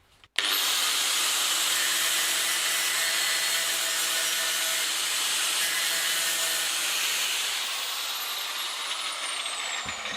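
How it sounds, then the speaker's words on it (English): A cast iron lawn mower part is ground against an abrasive wheel for a spark test, giving a loud, steady, hissing whine that starts abruptly and holds for about ten seconds, alone with no talk. "I am pretty sure that this is cast iron, but let's do a spark test"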